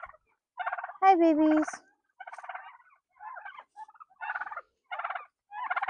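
Turkeys gobble in a cold farmyard, with one loud, close rolling gobble and several softer gobbling bursts in a broken rhythm. A person briefly greets the birds.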